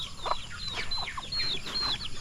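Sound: black male turkey among chickens after eating corn

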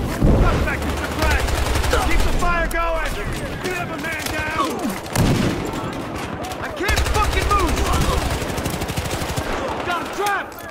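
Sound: gunfire in the video game Battlefield Hardline

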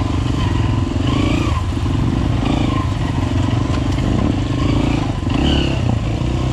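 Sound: Minsk X250 motorcycle riding on a race track

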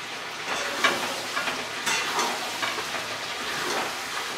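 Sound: meat being braised and fried with kasuri methi

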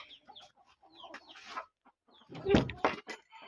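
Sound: rooster and chickens at a poultry farm

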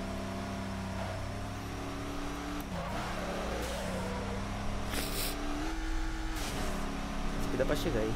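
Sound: car engine revving in Midnight Club 3 DUB Edition Remix video game

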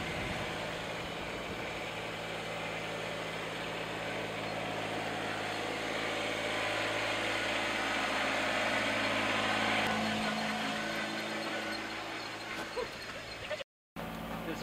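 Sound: tractor engine running while lifting barn cupola

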